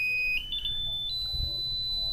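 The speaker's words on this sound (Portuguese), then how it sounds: "Quando eu chegar nos 20 centímetros, ele começa a bipar." A car parking sensor sounds as a hand approaches it: brief chirps that settle into a steady, high electronic tone which steps up in pitch, heard close and clear over faint background hum.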